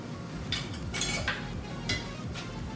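Soft scraping and clinking of a utensil stirring sautéing onions and tomatoes in a pan, repeated in short bursts over a faint background sizzle.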